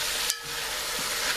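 Curry stirred into hot oil in a pot for curry goat, with a dense, even sizzle and a single brief scrape of the spoon, close up and without voices.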